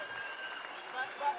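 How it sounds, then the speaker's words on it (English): A fight-night crowd applauds both fighters after a hard bout, a faint, steady patter of clapping heard from a distance. "A big round of applause to both fighters for a fantastic bout."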